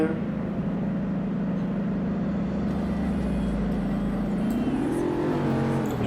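A Ford Mustang engine rumbles steadily up close, then revs higher toward the end.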